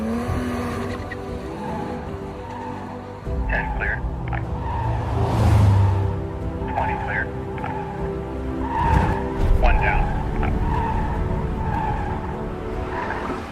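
A Porsche 718 Spider Roadster skids through a fifty-cone slalom course, with tire noise swelling and easing in repeated bursts over a steady engine drone. Music or other sound runs underneath.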